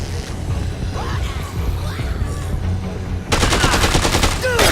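Gunfire in the video game Dead Rising 2, bursts of rapid shots that swell into a dense, loud automatic volley near the end, with no talk.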